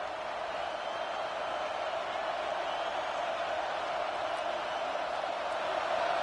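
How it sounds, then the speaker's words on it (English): A football stadium crowd at a Notre Dame versus Tennessee game roars for a red zone defensive stop, a steady, dense wall of cheering noise that holds constant throughout. "This crowd is trying to inspire this defense to make a big red zone stop."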